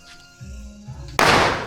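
A firecracker bursts during the Tihar festival with a sudden loud crack, then a noisy burst that slowly fades, after a short stretch of quieter rustling.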